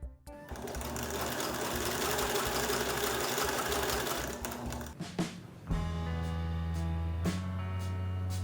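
A Bernette b68 sewing machine finishes fabric edges, its motor whirring steadily and loudly up close with a busy stitching rhythm, then pausing briefly before a smoother, lower run resumes toward the end.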